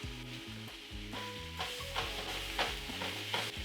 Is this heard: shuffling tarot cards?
no